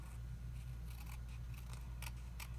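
Scissors trimming a piece of dark green cardstock during a papercraft project: a few soft, brief snips and paper rustles over a low steady hum, close and fairly quiet.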